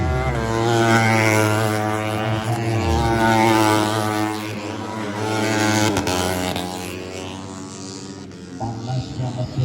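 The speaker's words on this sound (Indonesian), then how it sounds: "Panasnya mesin dulu juga" A 150cc four-stroke tuned underbone motorcycle engine warming up at a race event, a steady buzzing idle with a rich harmonic drone that rises and falls slightly as the throttle is blipped, loud and close throughout.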